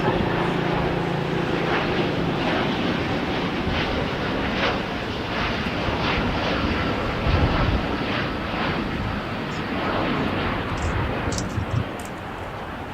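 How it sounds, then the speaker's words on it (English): A KLM Royal Dutch Airlines jet departing LAX for Amsterdam gives off a continuous, fairly loud engine roar that rumbles evenly throughout, with no talking. "just departing is KLM Royal Dutch Airways back to Amsterdam, Netherlands"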